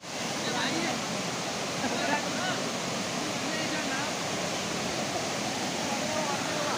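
Khambale village waterfall and river near Vaibhavwadi rush in a broad, constant roar of falling and flowing water, close and steady throughout with no breaks.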